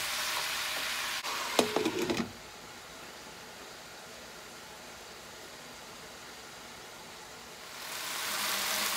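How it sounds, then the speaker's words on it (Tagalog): Chicken feet for adobo sautéing in a pan, with a burst of louder sizzling and stirring clatter early on, then a quieter steady low hiss before the sizzle swells again at the end. "Gisahin lang natin ng konti ito bago tayo maglagay ng ibang ingredients"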